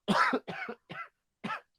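Four dry coughs in a quick series, close and fairly loud, the last one after a short pause.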